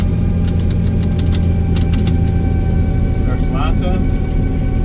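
A tractor engine running loud and close while the machine drives through a wet field, a constant heavy drone with metallic rattling and knocking clanks riding on top.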